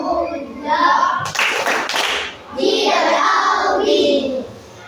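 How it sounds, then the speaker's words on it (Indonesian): A classroom of primary school children in an Indonesian lesson claps a rhythmic good-job clap for group 2, the bursts of clapping mixed with children's voices chanting and calling out. "Coba kita kasih tepuk good job dulu"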